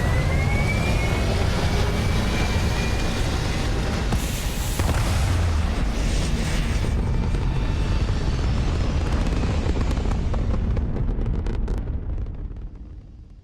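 A spaceship lifting off in Starfield gives a loud, sustained engine roar with deep rumbling, rising hiss and crackling bursts that fade away in the last couple of seconds, with no talking.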